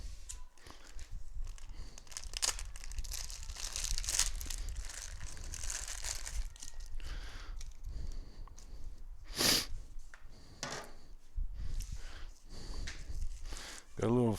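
Packaging of a compound bow release cut open and unwrapped, with close crinkling and tearing of plastic and cardboard, sharp rustles over continuous talk.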